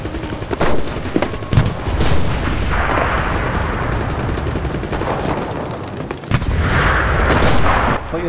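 Gunfire in the WW2 shooter game Enlisted: repeated loud rifle and artillery-like bursts and booms crackle across a dense battlefield, with rapid volleys and heavy thuds layered over constant background combat noise.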